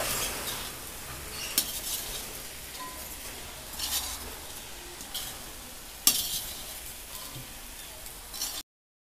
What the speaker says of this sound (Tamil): ரைஸ் உடஞ்சிராமல் பொறுமையாக அதை கிண்டி விடணும்.